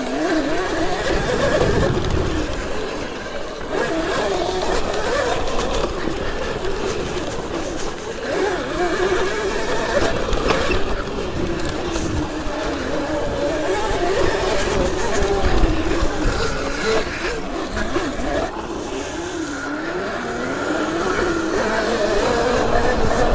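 A Sur-Ron electric mini dirt bike is ridden in a public park with increased power, giving a continuous whining motor drone with wind noise that shifts in pitch as it speeds and slows.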